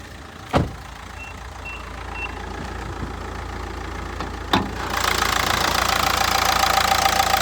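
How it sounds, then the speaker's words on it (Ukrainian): A Nissan Qashqai 1.5 dCi K9K diesel engine idles steadily up close with an even low rumble and clatter, two sharp clicks or knocks, and the noise growing slightly louder near the end. "Під капотом все сухо, двигунчик просто шепче."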